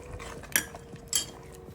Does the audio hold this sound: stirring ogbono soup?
yes